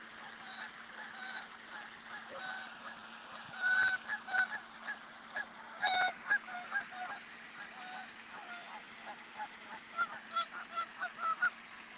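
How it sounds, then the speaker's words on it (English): Canada geese honk loudly and repeatedly at an outdoor shrine grotto, the calls coming in bursts of near and farther honks over steady background ambience. "The Canadian geese are certainly loud over here."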